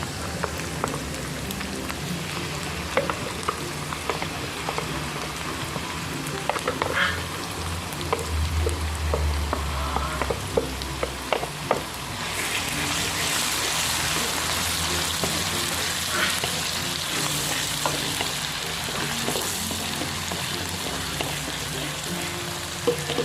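Blended red chili paste frying in a pan for sambal with long beans, a steady hissing sizzle with scattered crackles and pops that grows denser and louder midway through.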